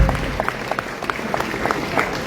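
Church congregation applauding in praise after a call to acclaim the Lord, a steady wash of claps with some brighter sharp claps standing out, continuous for a couple of seconds.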